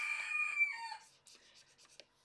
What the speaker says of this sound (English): it's my rooster you hear now.